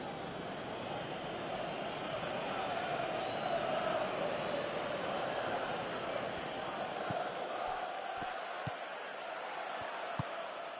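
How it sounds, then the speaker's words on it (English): A stadium crowd at a football match in a PS4 video game, a dense distant roar of many voices swelling steadily and then easing off, with a few light thuds near the end. "Crowd appreciates good football all round there."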